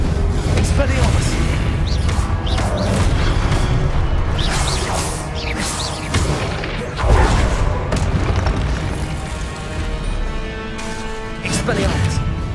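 Repeated booming spell blasts and crashing impacts from Confringo and Expelliarmus in the Hogwarts Legacy video game, loud thuds and whooshes arriving every second or two amid shouted voices.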